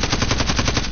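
Rapid automatic gunfire in a first-person shooter, a loud close burst of evenly spaced shots filling the whole moment without pause or voices.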